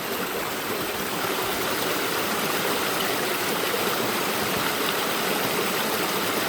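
Steady rushing of stream water, a constant broadband wash of flowing water close by, with no breaks or voices.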